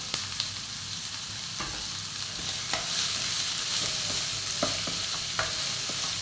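Sliced onions with a little salt frying in a pan for egg roast, a steady sizzle broken by light, irregular clicks and scrapes of a stirring spoon, close and even, no talking.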